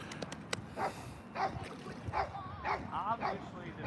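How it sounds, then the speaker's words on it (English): A dog wearing a bark collar gives short yips and whiny barks outdoors, several brief bursts over a steady background rumble, with people talking faintly nearby. "Obviously, this bark collar don't work anymore."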